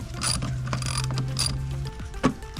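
Ratchet loosening a 10 mm nut on a 10th-gen 2.0L Honda Civic during intake work, a rapid run of clicking teeth close up, with a steady low hum running beneath and a sharper knock near the end.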